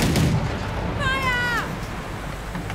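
Ship guns fire in a naval video game: a heavy boom at the start, then a falling whistle-like tone, with a person talking over it.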